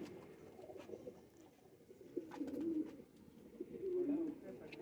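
A female pigeon coos in two soft, low bursts, midway and near the end, against a quiet, muffled background.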